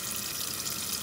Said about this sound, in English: I take all my bones and put them in a pot of water